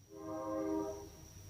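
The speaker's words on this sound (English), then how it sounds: "Hear the train there?" A train horn sounds in one sustained, chord-like blast at moderate distance, swelling and then fading over about a second, with a steady high tone behind it and no talking.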